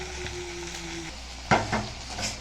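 Ivy gourd curry being set on a stove burner, with a soft steady sizzle and a low hum, then a few close clanks of a pot or utensil midway through, with no speech.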